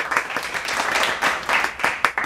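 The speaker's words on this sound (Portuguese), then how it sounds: "Vamos aplaudir o coleguinha." Applause for Lucas Burgatti, a short burst of dense clapping lasting a couple of seconds with some voices mixed in.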